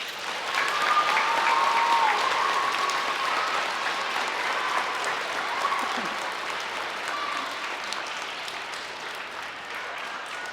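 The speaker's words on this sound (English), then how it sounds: "Let's give a clap right now for that" Audience applause at an elementary school award ceremony, a steady sustained clapping from a crowd lasting the whole stretch, with a few faint whistles or voices mixed in and slowly easing toward the end.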